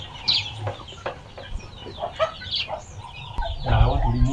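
Mother hen clucking near her half-grown chicks, with soft, irregular clucks and small chirps close by, and a louder burst of calls at the end.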